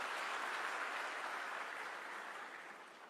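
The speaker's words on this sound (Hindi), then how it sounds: "आप सब जोरदार तालियां बजा दें" An audience at a government livestock-breeding workshop in Gorakhpur gives a sustained round of clapping, a fairly faint, even wash of applause that fades slightly toward the end.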